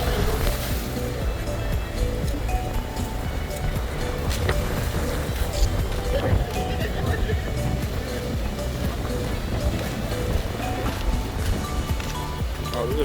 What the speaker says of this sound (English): Oh, those are big waves.